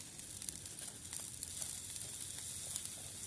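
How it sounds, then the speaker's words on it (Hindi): Butter meets frying onions in a pan over an outdoor campfire by a river, giving a steady, soft, continuous sizzle with faint crackles throughout and no voices. "चलो एक बटर को डालेंगे इसमें।"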